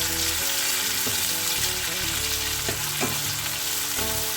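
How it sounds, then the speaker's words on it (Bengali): Onions fry with salt in a hot pan for a spicy Bengali chicken kosha, loud continuous sizzling broken by scraping stir strokes, with low steady background hum and no talking. "পেঁয়াজগুলিকে নেড়ে চেড়ে ভালোভাবে ভেজে নেব।"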